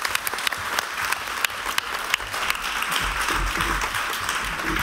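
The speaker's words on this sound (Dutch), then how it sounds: "Geef ze vast een warm applaus, dat is prettig." An audience breaks into sustained applause at a Dutch theatre or talk event, a dense wash of many hands clapping steadily through the whole stretch, with no voices standing out.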